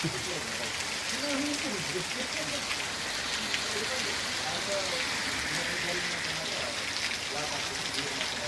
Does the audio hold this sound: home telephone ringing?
no